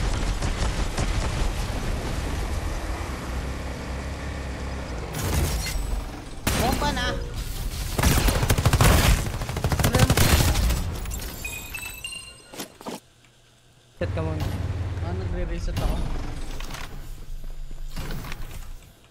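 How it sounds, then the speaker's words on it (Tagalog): Bursts of gunfire in the video game Farlight 84 crackle over loud, busy game audio with voices talking, dropping briefly into near silence before resuming. "Nagbabaril lang sila."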